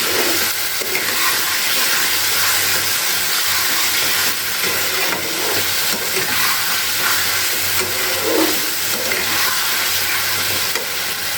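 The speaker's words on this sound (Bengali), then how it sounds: "চিনিটা দিয়ে আবার খুব ভালো করে মিশিয়ে নিচ্ছি" Spiced masala with added sugar is stirred in a pan while cooking Bengali dhaniya chicken: a steady sizzling, hissing fry with continual scraping and stirring throughout, close and fairly loud.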